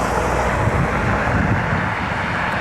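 A United Boeing 737 jet airliner arriving from Fort Lauderdale gives a steady, broad engine roar. The roar stays loud and constant throughout, mixed with wind buffeting on the microphone on a light breezy, overcast day.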